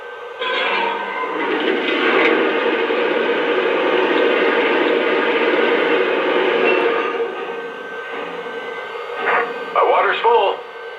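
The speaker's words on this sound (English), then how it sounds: "Here's the sound of water being added to the tender." Sound effect of water being added to the tender of a Lionel Frisco 4-8-4 Northern model steam locomotive, a loud, steady rushing gush lasting several seconds, followed by brief radio-like chatter near the end.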